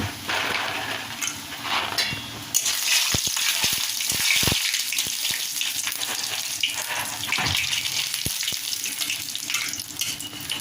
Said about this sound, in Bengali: তেল গরম হয়ে গেছে। এখন আমি ডালের বড়িগুলি দিয়ে দিব।